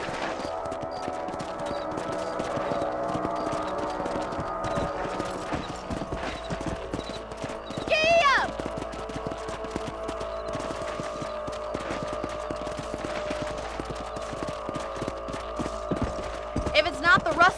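Horse hooves clip-clop steadily while riding across a ranch property in the Red Dead Redemption PC video game, a continuous rhythmic trot under game music and ambient sound, with a brief horse whinny partway through.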